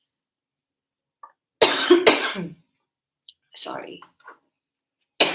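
A person coughs twice in harsh, close bursts, then murmurs a brief word, and a further cough begins right at the end, with quiet gaps between.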